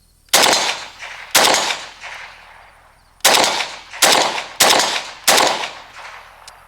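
A Romanian RPK rifle (Century Arms AES10B2) fitted with a JMac muzzle brake fires seven loud, close shots, two spaced single shots followed by a quicker string of five, each cracking sharply and trailing off in echo.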